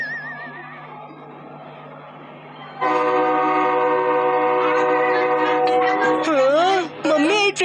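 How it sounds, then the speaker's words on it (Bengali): In a Bengali cartoon, a train begins pulling away with a loud, steady horn-like blare, followed by wavering whistle tones toward the end. "মাম্মি এই ট্রেনটা তো চলতে শুরু করলো।"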